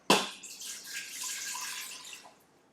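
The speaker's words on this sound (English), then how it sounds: "I pour my water in the Instapot" Water is poured into an Instant Pot: a quick splash at the start, then a soft, fading gush of liquid for about two seconds, near and fairly quiet.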